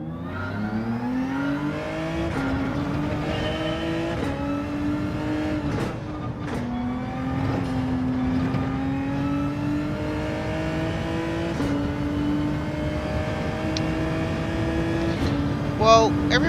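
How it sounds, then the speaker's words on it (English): Group 3 race cars, including a Genesis GX, racing in Gran Turismo 7, engines whining and revving steadily through repeated gear shifts, loud and continuous for the whole stretch. "They are the Group 3 vehicles, so I'm in the Genesis GX at the moment, Traps."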